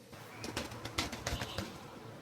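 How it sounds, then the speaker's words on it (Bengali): Giribaz pigeons flap their wings while perching on a hand, a few quick soft flutters in bursts close by, over quiet background. "এই দেখুন একটা গিরিবাজ কবুতর হাতে উঠে বসছে"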